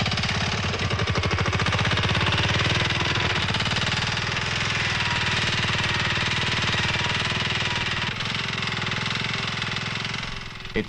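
Prototype motorised plough working a field, its small engine chugging loud and close in a fast, steady knocking rhythm that runs without a break for around eleven seconds, with no talk.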